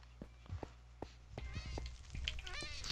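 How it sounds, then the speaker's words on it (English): A cat meowing in Minecraft while burning in a jungle fire, a series of short distressed meows repeating over crackling game sounds, fairly faint. "There's a cat on fire!"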